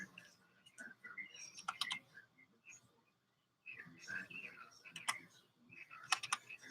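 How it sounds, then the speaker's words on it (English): Typing on a computer keyboard to enter a password during an online class, heard as short bursts of sharp clicks in two clusters separated by a pause, with some faint chirpy background sounds. "let me just type in this thing"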